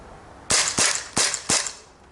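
An HK USP CO2 air pistol fires four rapid shots running low on gas. Each is a sharp, close crack in a quick, slightly uneven rhythm, followed by silence.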